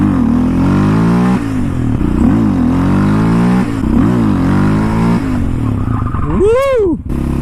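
Yamaha Raptor 700 quad engine revving hard during wheelie attempts: loud, close, repeated rising and falling throttle surges, ending with a sharp high swooping rev.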